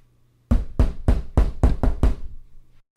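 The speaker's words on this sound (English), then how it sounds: "There was a pounding at the Macintosh door." Pounding knocks on a large oak door, seven heavy thuds in a quick, uneven series, close and loud, with no voices.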